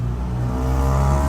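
Police patrol car driving, a steady low engine drone with road rumble heard from inside, continuous and fairly loud, no voices.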